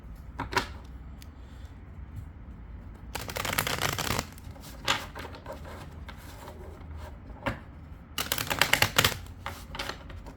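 Tarot cards are shuffled in two quick, crisp riffling bursts, with softer card taps and handling between them, close up and without speech.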